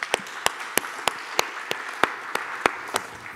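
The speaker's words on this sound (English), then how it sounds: "let's give them a round of applause for being here" Sparse, evenly spaced claps ring out from a small audience at a Microsoft cloud partner panel event, roughly ten sharp hand claps over a few seconds with soft crowd noise underneath.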